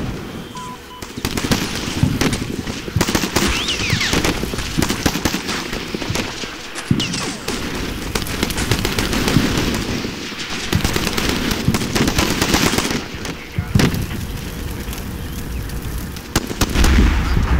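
Sustained exchange of gunfire in the modern-combat wargame Combat Mission: Shock Force, with dense overlapping shots, crackling bursts and a few heavier blasts forming a continuous loud battle din throughout.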